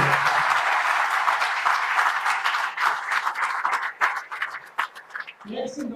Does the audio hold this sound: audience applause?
yes